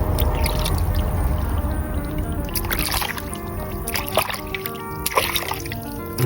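Water pours steadily for washing hands, a continuous rushing stream with small splashes and trickles, close and fairly loud, with a faint tonal hum in the background.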